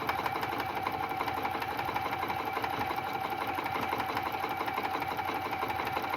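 A sewing machine stitching white flannel for a rag quilt, a steady fast mechanical whir and clatter running continuously at an even level, close and alone with no talking.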